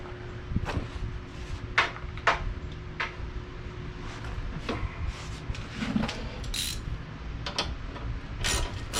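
Socket wrench ratcheting on engine mounting bolts of a Nissan 240SX KA24DET build, quiet irregular clicks and metallic taps spread across the clip with scattered handling clatter nearby.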